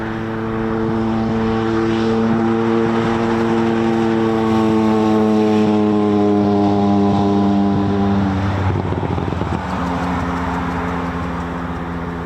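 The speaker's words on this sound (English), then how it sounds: "it's a specialised electronic reconnaissance aircraft used by" A Boeing RC-135U Combat Sent electronic reconnaissance aircraft flies over an RAF airfield, its jet engines producing a loud, continuous droning roar with strong steady tones that shift slightly in pitch as it passes.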